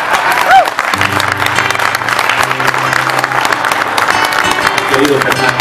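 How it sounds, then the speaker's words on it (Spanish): Audience applause at a live show, steady clapping throughout with a few voices and some tonal music faintly beneath. "el maravilloso Pepe Gordo, para quien pido un aplauso desde ahorita"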